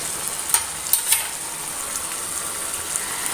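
Chicken roast with dry-roasted ground masala sizzles and fries in a pan while being stirred, giving a steady hiss with a few sharp scrapes and clicks from the spoon, no voices.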